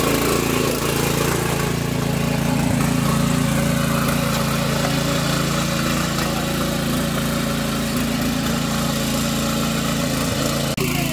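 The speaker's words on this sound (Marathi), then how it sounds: "ट्रॅक्टर घेतलेला हातात आणि तो आता चिखल करतोय बघा" A tractor working a flooded paddy field in rural Konkan, turning the mud for rice transplanting, runs with a steady, loud, close engine drone that never lets up.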